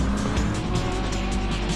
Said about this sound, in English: 1 more lap, and I'm sure Shoji's going to be pushing the limits of that Acura Honda thing